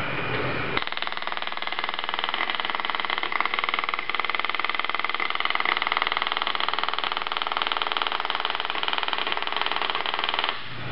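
A pump test jig runs to pressure-test an MS8 gauge fitted with a PulsePlus pulsation dampener, giving a steady, loud mechanical whirring drone that starts abruptly and holds without a break.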